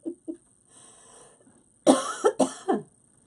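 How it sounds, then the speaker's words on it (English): A woman coughing close by: two small coughs, a pause, then a loud burst of four rough coughs in quick succession. "Yeah, I'm coughing."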